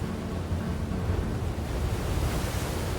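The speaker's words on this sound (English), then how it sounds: "Silence here is the waves and wind roaring together, relentless, inextricable" Waves and wind roar together on a winter Cornwall beach, a dense, continuous rumble of surf with gusty wind noise, loud and unbroken with no voices.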